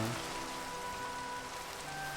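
Rain falling in Minecraft, a steady even patter filling the background with faint tonal game music running beneath it.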